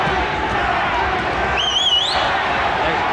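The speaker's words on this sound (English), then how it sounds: "The crowd is shouting Banke, Banke." A boxing arena crowd at a 12-round WBC super bantamweight title bout roars in a steady, dense wash of shouting and chanting, loud and continuous, with a brief whistle-like tone rising over it midway.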